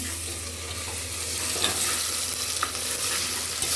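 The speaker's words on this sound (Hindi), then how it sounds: "फिर अदरक लहसुन को भी भून लेंगे।" Ginger-garlic paste fries in a pan with golden-browned onions for a flat bean and tomato curry, producing a steady close sizzle with soft stirring scrapes throughout.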